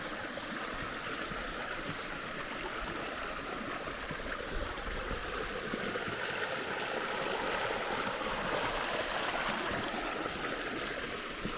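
A flowing brook in a canyon in Oulanka National Park, Finland, heard as a steady, even rush of water close by that runs on without a break, with no voices.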